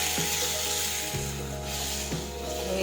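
Urad dal sautés in a pan with crushed garlic chutney, sugar and salt, giving a constant loud sizzle with rhythmic scraping as the mixture is stirred, close and with no voices.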